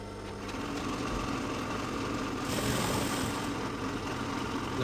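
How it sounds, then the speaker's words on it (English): A sewing machine stitching a shirt collar runs in a steady continuous whir for the whole stretch, close and even in loudness, with no voices over it. "We'll now sew here and hold the other side and then close it up from this side."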